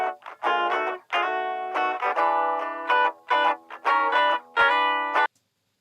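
Dry electric guitar with no reverb, a quick phrase of picked notes and chords with abrupt clean stops between them, alone and fairly close.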